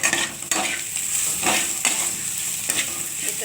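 Spices and lentils sauté in a frying pan with a steady close sizzle, while a spoon stirs in repeated scraping strokes roughly every second.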